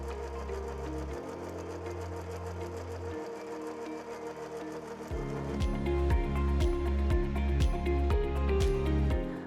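A 2300SZ direct drive zig zag sewing machine stitches through coiled rope for a basket, starting with a steady motor hum, then a loud, fast rhythmic run of needle strokes, close and alone.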